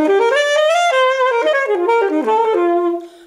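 A freshly assembled saxophone plays a short solo melodic phrase, with clear, bright sustained notes stepping up and down before fading at the end.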